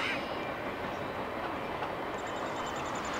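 A CSX freight train rumbles past steadily at close range in the snow, a broad continuous roar with faint clicking of wheels on the rails; no voices.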